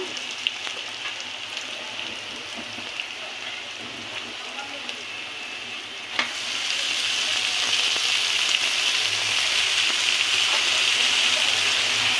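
Leafy greens and onion fry in oil in a large wok on an outdoor stove in windy weather. A soft, steady hiss jumps to a loud, sustained sizzle as the greens go in.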